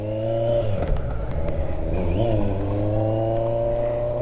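A Kawasaki Z900 motorcycle pulls away with engine harmonics climbing and shifting, steady and fairly loud throughout, with no talk over it.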